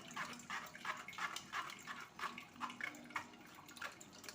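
Watermelon juice blended with lemon and ginger essence pours and trickles steadily through a strainer, a soft continuous liquid splashing at close range with no voices.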